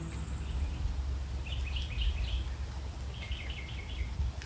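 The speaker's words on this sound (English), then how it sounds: "Hear those birds?" Birds chirp along a country road in short, faint clusters of high calls over a steady low rumble, with no talking.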